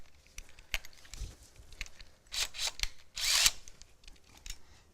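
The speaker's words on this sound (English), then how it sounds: "To do the drilling, we'll use a special drill bit that's been modified to drill acrylic." A power drill with a modified bit drills acrylic sheet in short bursts with pauses between, rising to a louder high-pitched grinding burst near the end, close by.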